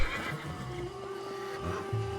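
Horses whinny and neigh in the video game Ancestors: The Humankind Odyssey, a couple of fairly close calls over a low ambient backdrop.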